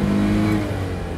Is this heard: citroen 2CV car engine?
yes